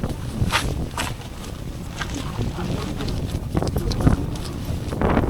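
Strong wind buffets the microphone outdoors at a 500-year-old castle in Scotland, a loud continuous low rumble with gusty swells and faint rustling throughout.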